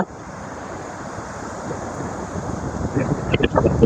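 Monsoon sea waves on the Konkan coast wash and roar steadily, building in surges near the end, with wind buffeting the microphone.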